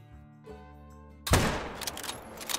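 A single loud rifle shot fired at a mule deer in the hunting game theHunter: Call of the Wild cracks out suddenly after a quiet, humming lead-in, followed by a rolling echo that lingers and decays.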